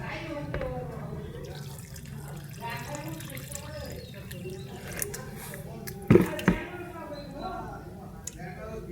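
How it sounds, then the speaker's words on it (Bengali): Water is poured onto a potted plant, a soft close trickle and splash with a couple of sharper bumps midway, heard beneath a person speaking. "এবার জল দিচ্ছি।"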